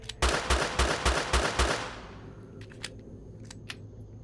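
Rapid gunfire from a weapon in the Escape the Wendigo Forest escape room game: six sharp shots in quick succession, then a fading tail with a few faint clicks; no talk.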